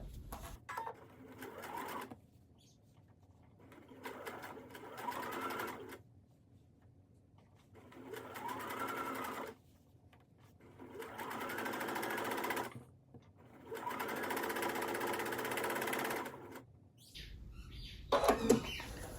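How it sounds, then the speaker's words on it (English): A sewing machine stitching the open edge of quilt binding along a curved edge, running in five or six short bursts of rapid whirring separated by brief pauses, close and fairly quiet. "I'm sewing the open edge of the binding, of course, to that curved"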